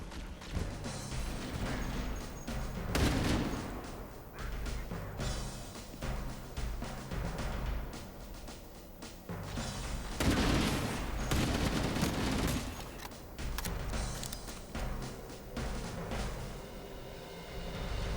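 Dense, continuous gunfire in the Halo: Campaign Evolved video game: rapid automatic bursts and overlapping shots with heavy impacts that swell and fade in waves, loud throughout a long battle passage.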